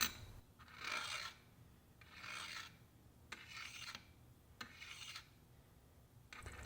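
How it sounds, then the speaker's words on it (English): Rhythmic rasping scrapes of a steel broadhead's blade drawn across a diamond sharpening stone, several slow strokes with brief pauses between, close and fairly quiet. "Hear that slight burr scrape against the diamond"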